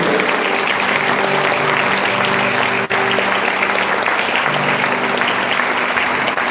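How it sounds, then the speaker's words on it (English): Sustained applause fills the hall at a school graduation ceremony at an international school in Japan, loud, continuous clapping from a large audience over several seconds, with a low steady hum beneath it. "Big round of applause."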